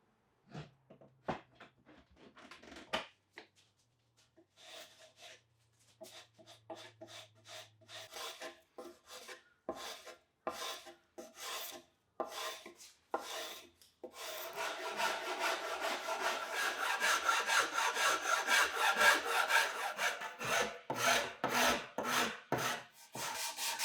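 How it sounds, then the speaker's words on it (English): A hand rasp shapes a wooden kayak paddle shaft made from a reclaimed board into an oval grip, first in sparse irregular scrapes, then in a denser, louder run of rapid rhythmic strokes, close and with no voices. "Now I'll keep shaping the shaft, making it more oval so it'll have a better fit in the hand."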